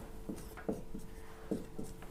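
Pen or pencil strokes writing out given points for a Class 10 coordinate geometry maths problem on paper, several short scratchy bursts in an uneven rhythm, close and fairly quiet, with no talk.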